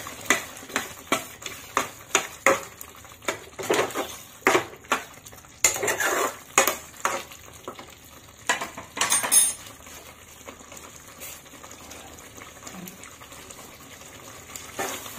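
Fried onions are stirred into paneer in a pan for paneer do pyaza. A metal spoon clanks and scrapes against the pan in a quick run of knocks, which thins out into a few scattered taps and a softer stretch of stirring.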